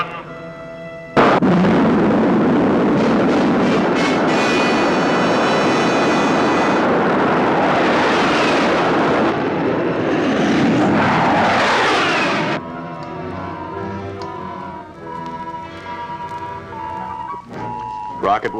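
A rocket launching in a 1958 science-fiction film, heard as a sudden loud roaring blast that rumbles steadily for about ten seconds, then gives way to a quieter passage with ringing tones and orchestral sound.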